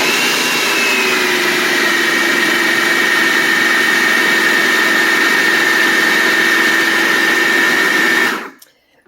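A food processor runs loudly and continuously for about eight seconds while blending egg noodle dough, with a steady whirring motor drone that stops abruptly at the end.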